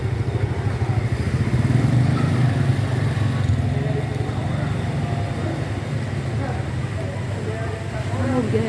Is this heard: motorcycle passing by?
yes